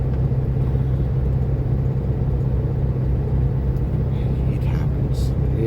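The engine of a car on a highway drive rumbles loudly and steadily in the cabin during a manual downshift, a continuous low drone with no clear break.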